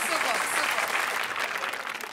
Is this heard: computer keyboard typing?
no